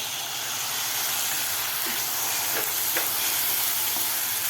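Chopped tomato sautéing with onions in a hot pan for puri bhaji, a steady loud sizzle and hiss with a few soft stirring scrapes.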